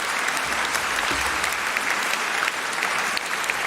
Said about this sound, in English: A warm round of applause for his closing argument.